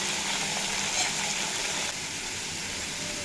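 Potatoes and pumpkin fry in fish oil left in the pan after frying fish, giving a steady, close, even sizzle with a slight drop in level partway through.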